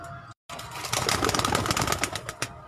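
A champion racing pigeon on a Lahore rooftop gives soft, close cooing and rustling after a brief silence, with faint low voices nearby.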